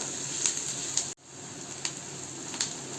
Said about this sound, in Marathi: कांदा मी फास्ट गॅसवर परतून घेते.